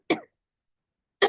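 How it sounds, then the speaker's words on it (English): Two short, sharp coughs from one person about a second apart, close and fairly loud, with silence between them. "little bit of a cough there"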